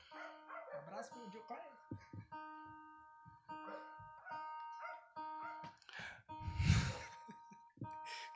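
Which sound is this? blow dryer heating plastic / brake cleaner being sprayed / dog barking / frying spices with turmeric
dog barking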